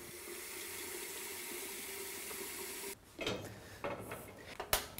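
Tap water runs steadily into a cooking pot for about three seconds, then stops, followed by metallic clatters and knocks of the pot being handled.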